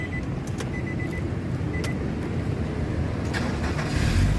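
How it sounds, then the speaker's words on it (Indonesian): Nissan X-Trail T30 2.5 automatic from 2005 with its engine running after being started, a steady low rumble held throughout that swells slightly louder near the end. "Sekarang kita coba nyalakan mobil ya."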